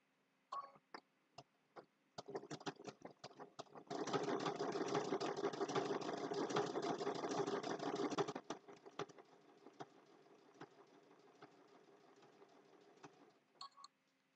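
Sewing machine stitching applique on a snowman mug rug: a few short start-stop bursts, then a sustained run of rapid needle clatter for about four seconds, followed by slower intermittent stitching and small clicks, close and alone.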